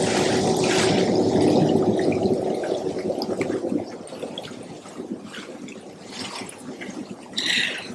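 Water runs and splashes from a tap, a steady gushing stream that thins into trickling and dripping, close by with no talking over it.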